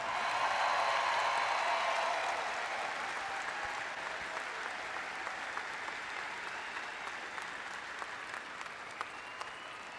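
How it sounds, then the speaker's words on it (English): Audience at a Pelotonia opening ceremony applauding hospital workers, a loud dense burst of clapping with a few cheers at the start that eases slightly and continues steadily for the full ten seconds. "Will you guys join me in giving a very loud round of applause for all of the workers at the James right this minute?"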